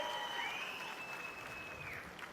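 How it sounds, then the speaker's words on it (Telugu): Crowd applause at a political rally in Andhra Pradesh, steady dense clapping for a couple of seconds with a few shrill whistles riding over it, no voices on top. "గట్టిగా చప్పట్లు కొట్టి హర్షాన్ని ఆమోదం తెలియజేయండి"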